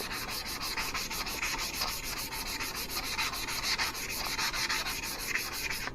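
Steady, continuous hand sanding with 180 grit emery cloth on a brake drum from a 1950 Farmall Cub tractor, a close, even rasping scrub with a rhythmic back-and-forth pulse throughout and no talking.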